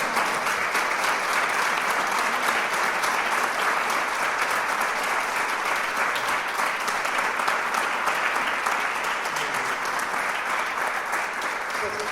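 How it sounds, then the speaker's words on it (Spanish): A room full of people at a literary café applauds a novelist steadily and continuously, a dense, even wash of clapping that holds at the same level throughout. "efectivamente aplaudimos a Vanessa"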